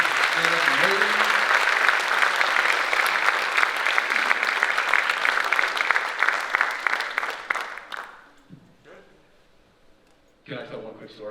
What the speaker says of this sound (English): So if we could have a round of applause right now for any Booster Club members that are here